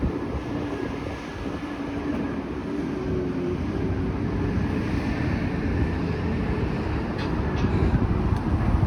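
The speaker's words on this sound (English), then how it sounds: "there's a GO train" GO commuter train rumbling past on Danforth Avenue in Toronto, a loud, steady low roar of rail cars that fills the street continuously, with light traffic noise mixed in.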